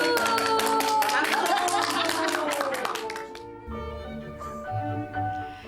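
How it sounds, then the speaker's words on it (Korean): A group of elderly village women clap together rapidly for about three seconds, crisp close hand claps that then stop, giving way to voices and a steady tone. "박수!"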